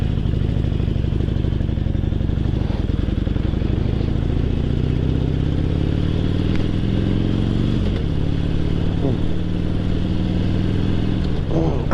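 Close motorcycle with a touchy clutch rides and revs, the engine pitch climbing and dropping through several gear changes in a loud, continuous run.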